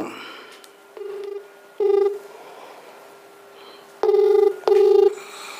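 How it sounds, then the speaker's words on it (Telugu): Several electronic telephone tones in short bursts with pauses between them, like a call being dialed and ringing, clear and close. "ఫస్ట్ ఫోన్ చేద్దాం"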